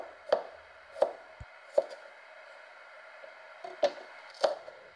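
Chilli peppers are sliced diagonally with a kitchen knife on a cutting board, giving five or six crisp, separate knocks at uneven intervals against a quiet background, with no speech.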